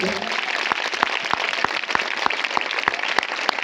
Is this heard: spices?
no